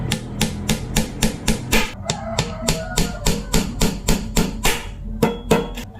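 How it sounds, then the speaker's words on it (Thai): Steady, rhythmic hammer blows drive nails into an old broken refrigerator, dozens of sharp loud knocks in quick succession with brief pauses, close by. "เดี๋ยวไปตอกตะปูกันครับ ตอกฝังลงไปแบบนี้ก็ได้ครับ"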